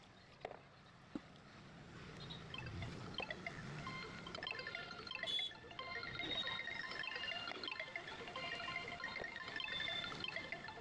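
Raw mangoes, cut up for pickle, are rinsed under water outdoors at a mango orchard, a soft, quiet trickle and pour with scattered light splashes and knocks throughout, no voices.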